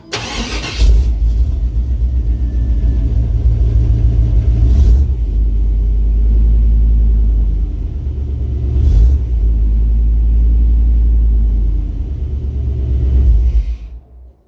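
A truck engine rumbles loudly and steadily at close range, its deep exhaust note rising in a few revs before cutting off at the end.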